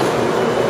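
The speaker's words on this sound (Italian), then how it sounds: "Questo è la metropolitana." Subway train in Fukuoka, Japan, a loud steady rumbling roar of the carriage in motion, heard close and continuous without talk.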